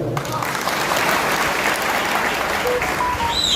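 Audience applause at a Shiv Sena workers' political meeting, a broad, even wash of clapping from many people that holds steady and loud throughout.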